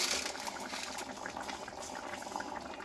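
A pan of potato, chickpea and pumpkin curry bubbles and simmers on the stove, a steady dense fizzing boil, close and fairly quiet, with no talking.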